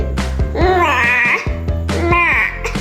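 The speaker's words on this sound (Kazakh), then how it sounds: "Қой." A toy sheep gives two loud, close electronic bleats, each drawn out and wavering, over a steady thumping toy tune.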